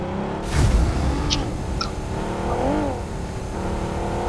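A car engine revs steadily while driving in a video game, a continuous close motor drone with pitch sweeps as it accelerates, no talking over it.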